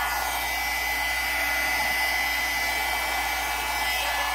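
A hair dryer blows steadily on wet junk journal pages in a lemon-themed mixed media project, a close, loud, unbroken whooshing roar with a faint high whine running throughout.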